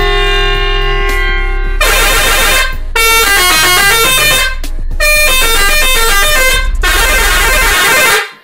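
Loud pressure horns blare in several long, musical blasts that run through changing notes, with brief gaps between them.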